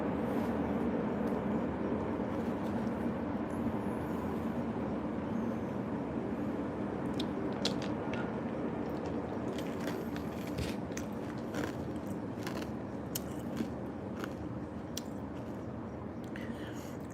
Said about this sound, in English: Trains in America sounds like it's 100 years old.